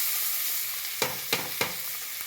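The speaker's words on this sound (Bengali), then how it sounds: "এবার আমি কেটে রাখা, খুব কুচি কুচি করে কেটে রাখা পেঁয়াজ কলিটা আমি দিয়ে দেবো ওর মধ্যে।" Finely chopped onion stalks drop into hot oil with frying nigella seeds, giving a steady close sizzle with a few sharp bursts of crackle about every third of a second as pieces hit the pan.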